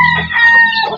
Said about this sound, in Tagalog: Ang gugulo ng mga sisiw.